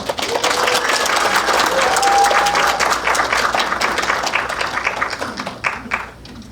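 An audience at an education policy forum in South Jeonnam applauds a primary school teacher, with brisk, lively clapping that thins out toward the end into scattered individual claps.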